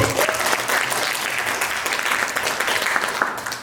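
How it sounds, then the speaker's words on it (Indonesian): Steady applause from a quiz competition audience for all the teams, dense clapping from a room full of people sustained evenly from start to finish. "Kita kasih aplaus untuk semua regu."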